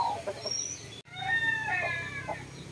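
A large Shamo rooster in a backyard chicken coop gives a drawn-out crow and warbling clucks at close range, with other hens softly clucking in the background and a brief cut partway through.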